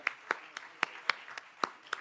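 One person claps steadily at an evening youth-program commencement ceremony: about nine sharp, evenly spaced hand claps close by, with no voices over them.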